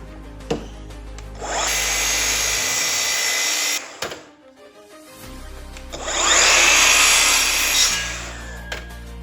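A Festool KSC 60 cordless circular saw slices through wood in two passes: a loud rising whine and cutting roar for a couple of seconds, a short lull as the blade spins down, then a second louder cut that winds down at the end.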